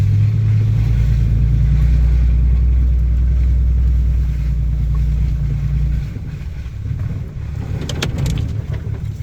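A pickup truck with its traction control switched off drives into a deep, pond-like mud hole on a West Virginia holler track. A loud, steady low engine rumble eases off about two-thirds through, followed by brief splashy bursts near the end.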